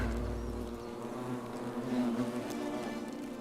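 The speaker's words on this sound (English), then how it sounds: "I hear a lot of flies buzzing." Flies buzz steadily and close by in The Forgotten City video game, a dense droning hum that wavers in pitch and carries on without a break.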